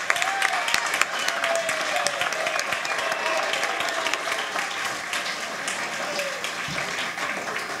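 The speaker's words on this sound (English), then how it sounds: "did you hear all that clapping?" Sustained applause and clapping from a church audience welcoming Dave Kornman, director of the junior high program, with steady dense claps for the whole stretch and no pause.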